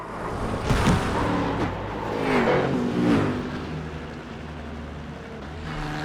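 A GT3 race car engine roars around Watkins Glen in a racing video game, revving high, dipping as the throttle lifts, then climbing again with a whining pitch sweep, loud and steady with no voices.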